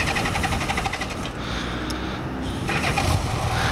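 Motorcycle engine starting from cold, a loud steady broadband rumble that holds throughout with a slight dip midway before rising again.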